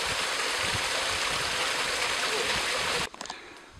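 Mountain forest stream with a small waterfall rushes in a loud, continuous broadband wash close by, then cuts off abruptly near the end, leaving quiet background.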